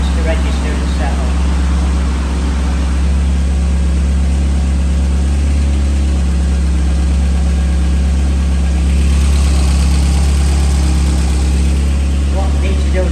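A 1983 Porsche 924 engine idles steadily at close range throughout, with a deep continuous hum and a slight rise in pitch near the end as the idle is adjusted. Speech from people working on the car is mixed in.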